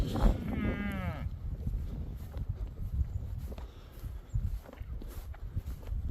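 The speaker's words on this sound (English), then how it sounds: "Need to get past the cattle again." Cattle in a field: one low moo sounds near the start, followed by footsteps and faint rustling from someone walking past the herd.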